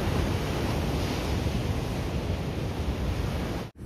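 Ocean waves breaking against the rocks at Chuam Beach in Donghae, a steady loud wash of surf with wind rumble that carries on unbroken before cutting off abruptly near the end.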